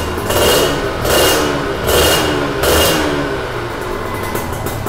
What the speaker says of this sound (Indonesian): gue nyalain motor 2 tak